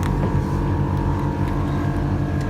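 A Viair 444C onboard air compressor runs steadily and loudly up close, a continuous mechanical drone with a dense low hum and no talking.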